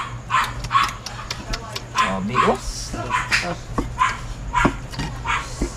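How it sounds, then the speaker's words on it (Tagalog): A dog barks in short repeated yips and woofs close by, with people talking over and between the barks. "Ay, aso!"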